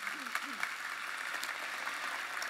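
Applause from a congregation at a church congress, a soft, steady patter of many hands heard from a distance, with a voice briefly audible over the start.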